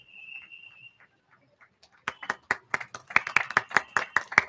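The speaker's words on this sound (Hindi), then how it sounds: "तालियां बजती रहने चाहिए" A thin high tone and a few scattered taps give way to audience clapping at a university science festival closing ceremony during an honour for the vice-chancellor. Distinct, fairly sparse claps swell into a brisk, quick rhythm with no voices.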